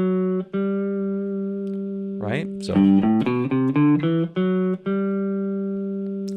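Electric guitar playing a run of sixth intervals in a compact vertical shape, clear sustained paired notes picked one after another, with a brief spoken word near the start and end.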